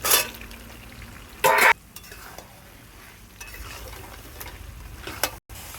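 Paneer added to a pan of masala with chickpeas, frying with a low steady sizzle broken by sharp spatula scrapes and a few metallic knocks against the pan.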